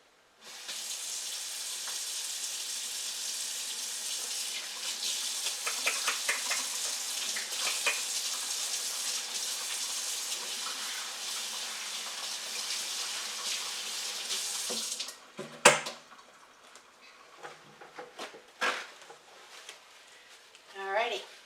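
Hands washed under a running kitchen tap, a steady close rush of water for about fifteen seconds that then cuts off, followed by scattered drips, clatter and handling sounds.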